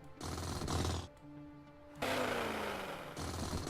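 A handheld mining drill grinds into uranium ore in Space Engineers, running in loud rattling bursts separated by a quieter humming lull, then starting again with a descending whine. No one speaks.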